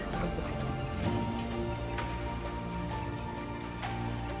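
Heavy rain pours steadily, a dense hiss of drops drumming on surfaces with no voices.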